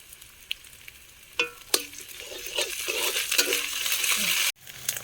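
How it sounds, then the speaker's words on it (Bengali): Garlic and onion fry in a pan with a soft, steady sizzle, broken by a few sharp clinks and scrapes of stirring. It sounds close and fairly quiet. "রসুনটা পেঁয়াজের সাথে ভালোভাবে ভেজে নেব, কাঁচা গন্ধটা যাতে চলে যায়"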